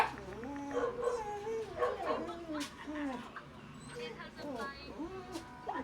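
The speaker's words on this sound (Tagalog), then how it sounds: "maingi lang po talaga yung aso namin" A pet dog at home gives repeated close yips, whines and barks in quick bursts throughout.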